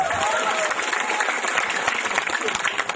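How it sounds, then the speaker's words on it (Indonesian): Steady applause from an audience at an Islamic sermon, dense and continuous throughout, with some crowd noise mixed in. "Tepuk tangan dulu buat polisi."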